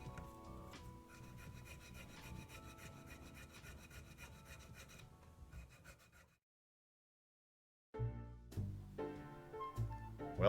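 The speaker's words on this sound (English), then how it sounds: "here I'm dressing the ends of each fret and finally giving them a polish" Rapid rhythmic rasping strokes of filing on metal guitar fret ends, steady for several seconds, then a brief silence before shorter scraping and rubbing polishing bursts resume.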